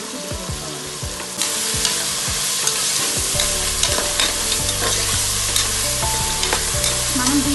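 Carrots, potatoes, coriander and mint fry in a pan on a gas stove for vegetable pulao, a loud continuous sizzle with repeated scraping stir strokes and a steady background hum.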